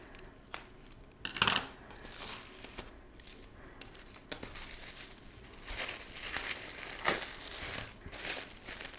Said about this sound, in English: I'm going to grab some scissors.